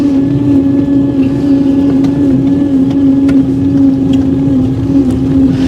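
A 1903 Columbia Electric car runs flat out at its top speed of around 15 mph, with a loud, constant electric motor hum and drivetrain drone, plus road and wind rumble, heard up close without talk.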